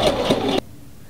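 A sewing machine stitches to the end of a men's tie, a brief close whirring hum that stops sharply halfway through, leaving near silence.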